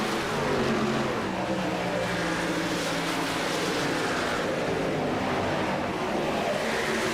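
A race car at a VSpeed Contender Series race, driven by Keith Hackney, roars past in a loud, steady engine drone that holds for several seconds with no talk.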